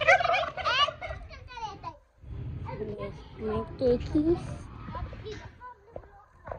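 Turkeys gobble in rapid rattling bursts close by, repeated several times, mixed with a person talking over them.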